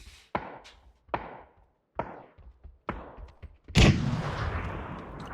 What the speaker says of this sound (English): More mortars.